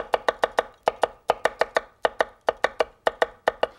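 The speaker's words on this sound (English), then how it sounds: "And then you slice." Rapid, regular knife slices on a cutting board while preparing wonton chips and chili pepper salsa, a sharp knife striking in quick bursts of four or five crisp chops with brief pauses between, close and clear with no talking.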